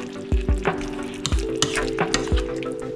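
Pork sizzling in a frying pan with marinade and brown sugar added, a steady loud fry hiss broken by several sharp sputtering pops and stirring clatters, with no talking.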